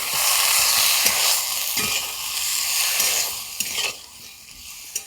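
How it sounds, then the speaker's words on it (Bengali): Tadka dal poured over egg tadka for a dhaba-style dish sizzles loudly in the hot pan, a steady hiss broken by several sharp clinks and scrapes near the end. "এবার এই তড়কার ডালটা দিয়ে দিচ্ছি এর উপরে।"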